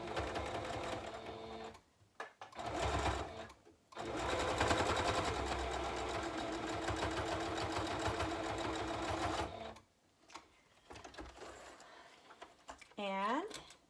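Sewing machine stitching a seam on a fabric face mask, close whirring bursts of needle clatter that start and stop several times, with brief pauses and quiet handling sounds between, ending with a faint squeak.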